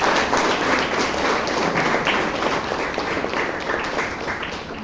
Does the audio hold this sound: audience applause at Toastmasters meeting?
yes